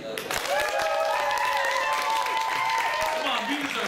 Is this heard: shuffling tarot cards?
no